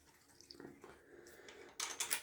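Glass bottle of Sangre de Draco alcohol-based aftershave splash being shaken: faint sloshing of liquid inside, followed by a louder burst of splashing toward the end.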